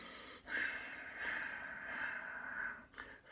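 A forceful exhaled breath during a Pilates exercise, a hissing breathy push through the mouth that is held for about two seconds and ends with short sharp breaths, close and fairly quiet.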